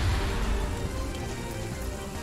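Steady rain falling as a weather effect in the video game Coromon, a dense continuous patter with a low rumble that holds at an even loudness throughout, with no talking.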